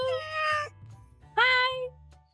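A stray cat meows twice close by, two drawn-out tonal calls separated by a short pause, with low background hum between them.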